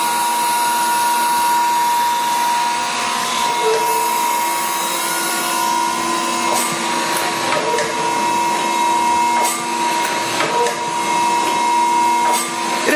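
An unused Rockford 24-inch hydraulic shaper with a 10 horsepower main drive motor runs steadily, producing a loud, constant mechanical hum and whine with faint clicks and ticks throughout.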